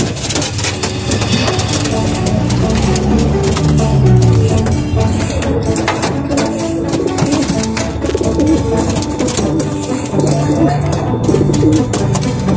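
Pigeons cooing at feeding time in a racing-pigeon loft, soft low coos mixed into a dense, loud bustle of wing flaps and bird noise, with faint voices in the background.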